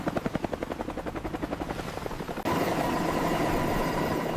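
Helicopter flying over an icy river rescue scene, its rotor chop pulsing rhythmically at first, then giving way to a steady, loud whining roar as it draws close.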